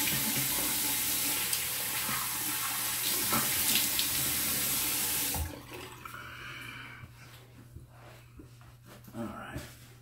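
Tap water runs steadily from a faucet into a sink while someone rinses off after a shave with a black soap, loud and continuous, then cuts off about halfway, leaving quieter drips and small splashes behind.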